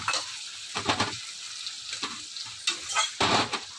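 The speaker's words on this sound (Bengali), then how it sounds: "পেঁয়াজটা ভাজ ভাজা ভাজা হোক" Chopped onions sizzle and crackle steadily in hot oil after a cumin-seed tempering, with a few louder stirring scrapes breaking through the broadband hiss; no voices.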